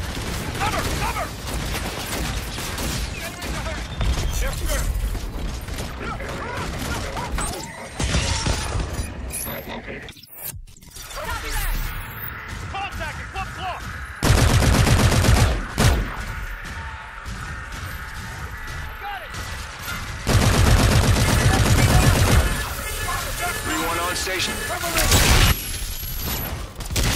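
Intense gunfire from Call of Duty Infinite Warfare: rapid automatic bursts, shattering impacts and mechanical clatter, loud and sustained with several heavier surges and a brief lull, under shouted combat voices.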